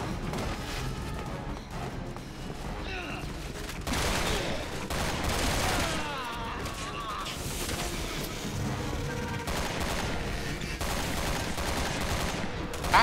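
Gunfire in Resident Evil 6, with rapid bursts and scattered shots crackling through a busy, noisy game soundscape, fairly faint overall and running for the whole stretch.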